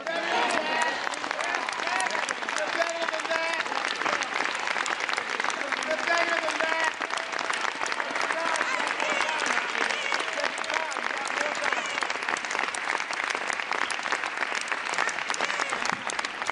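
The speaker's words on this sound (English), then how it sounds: "So applause there for the Democratic leader in the House of Representatives, Hakeem Jeffries" A chamber full of lawmakers gives sustained applause for House Democratic leader Hakeem Jeffries in the U.S. House of Representatives, dense and even clapping that holds at full strength throughout.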